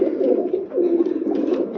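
A pair of pigeons of a Tufan bloodline cooing close by, soft rolling low coos in a continuous run with a short dip midway.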